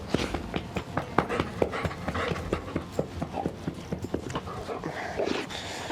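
A dog moves around on a boat deck, its paws and nails tapping and scuffling in quick, uneven steps. The close, busy patter keeps going the whole time with small bumps, and no one speaks.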